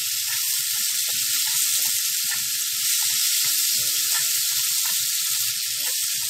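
Young eggs with garlic sizzle in a hot pan, a steady close hiss of frying oil with faint crackles and soft scraping underneath, with no talking.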